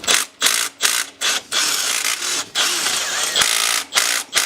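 A ratchet clicks as the bolts come off a car's crankshaft pulley. Bursts of loud, fast pawl clicking sit close by, broken by short pauses between strokes, with no talking.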